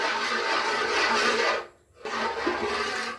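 Thick Bombay halwa is stirred in a pan, giving a close, continuous rasping scrape that stops briefly and then resumes at the same steady level, with no talking.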